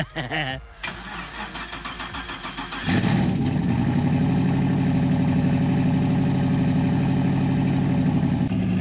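A turbocharged LS-swapped G-body Chevrolet Malibu cranks and catches on its first start, then settles into a loud, steady rumbling idle; voices are faintly audible before it starts.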